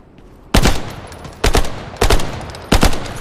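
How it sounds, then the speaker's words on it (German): Four sharp gunshots crack out at irregular intervals in the video game Lost Light, each a loud, close burst with a short decaying tail and quiet between shots. "Schüsse von rechts."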